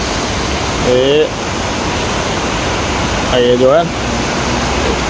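Heavy rain-soaked flooded road with a steady, loud rushing wash of water; two brief tonal whines, likely passing vehicles' horns or engines, rise over it while someone speaks briefly.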